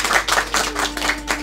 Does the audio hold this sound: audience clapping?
yes